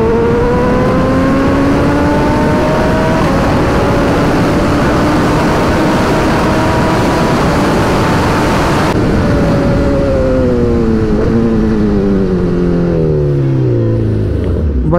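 Motorcycle engine accelerating hard on a highway, a loud continuous rising whine that climbs steadily and then shifts through a gear change into a falling, winding-down pitch near the end.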